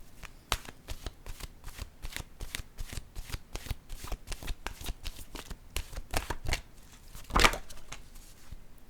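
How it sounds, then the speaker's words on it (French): Oracle cards being shuffled close up, a steady series of crisp riffles and taps, ending with a sharper slap as a card is drawn. "Je vais piger une carte de mon oracle de l'âme intuitive."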